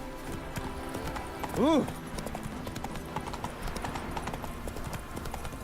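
Roach, a horse in The Witcher 3, pounds along in a quick, rhythmic gallop of hoofbeats with a short neigh partway through, while someone talks over it.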